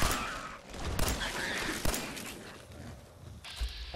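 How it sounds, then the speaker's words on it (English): Tactical pistol shots in Fallout 4, a few sharp separate cracks spaced through the moment against a busy game backdrop of movement and ambience. "Tactical pistol time."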